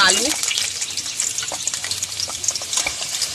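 Vegetables frying in hot oil in a kadai (wok) for a Bengali vegetarian shukto, a steady close crackling sizzle with a few sharper pops, with some faint voice in the background.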